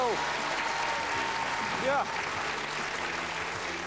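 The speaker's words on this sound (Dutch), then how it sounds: "een applaus alsjeblieft voor onze vriend Frans." A studio audience at a Flemish television game show applauds a contestant with steady, full clapping, while a host speaks over it.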